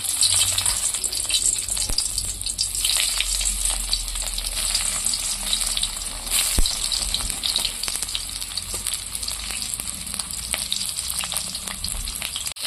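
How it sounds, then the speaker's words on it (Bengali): Stuffed pieces fry in hot oil. A constant, loud crackling sizzle fills the whole stretch, with occasional sharper pops and no voices. "এইভাবে আস্তে আস্তে কিচনেগুলো পুরো ভরা কিচনে ভালো করে ভেজে নেব"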